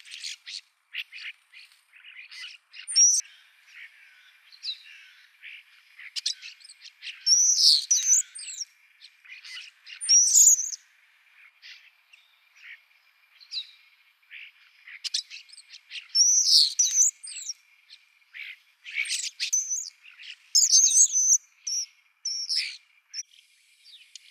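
A European robin and other birds chirp and sing in short, bright bursts with quiet gaps between, fairly close, against a silent, snowy winter background.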